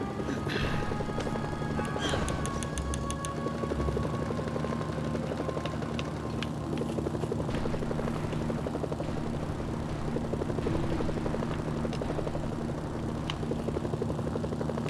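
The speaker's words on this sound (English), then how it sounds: "Incoming helicopters." Helicopter rotors thump in a steady, loud rhythm for the whole stretch, with clattering mechanical noise and metallic pings layered over the drone, in the video game Mercenaries: Playground of Destruction.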